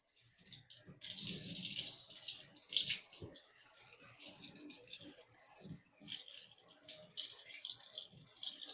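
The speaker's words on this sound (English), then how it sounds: "Just fill it up with water." Tap water runs into a container to rinse out a milking pulse system, a close hissing, splashing flow that surges and eases in uneven bursts with short pauses.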